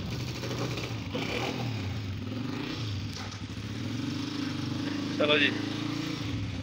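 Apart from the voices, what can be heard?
motorcycle being started and ridden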